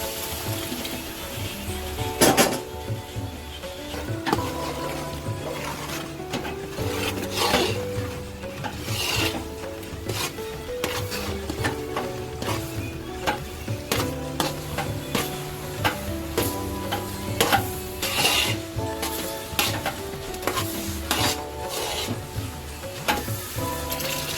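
Milk being poured into hot ghee and stirred in a pan, giving a continuous sizzling hiss with rhythmic scraping and rasping strokes of a spoon against the metal, repeated steadily over more than twenty seconds.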